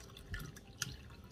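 About one and a half cups of plain water pour into powdered milk in a bowl, a soft close trickle and splash with small dripping bursts, quiet and with no talking.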